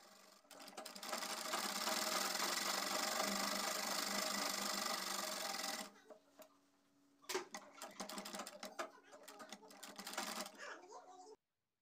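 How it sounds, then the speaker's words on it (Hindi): A sewing machine runs in a steady dense burst while stitching a palazzo hem all the way round, then stops and restarts in shorter uneven runs, close and fairly loud. "इसी तरीके से हमें सारा उसमें पूरे राउंड से सिलाई कर देनी है"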